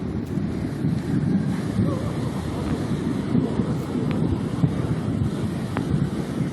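Torrent of floodwater rushing under a culvert bridge, a loud continuous churning roar with wind buffeting the microphone and no clear voices.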